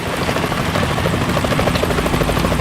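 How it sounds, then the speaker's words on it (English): A helicopter in the video game Metal Gear Solid 2 flies nearby with a steady, loud rotor thrum and engine whine, continuous and unbroken throughout, with no voices. "Is that a chopper I just heard?"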